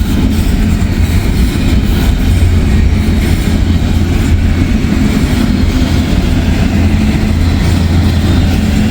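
A freight train rolls through Laughlin, a steady loud rumble with a deep low drone and faint rail clatter sustained throughout, no voices.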